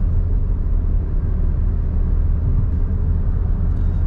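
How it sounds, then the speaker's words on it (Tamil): Automatic (AMT) car's engine rumbling steadily as the accelerator is pressed suddenly for an emergency overtake; a continuous loud low drone inside the cabin with no clear rev peak, no talk. "ஸோ இப்போ வந்து நான் எமர்ஜென்சி ஓவர்டேக் பண்ண என்ன பண்ணுறேன், ஆக்சிலேட்டர் வந்து சடனாக ப்ரெஸ் பண்ணுறேன்."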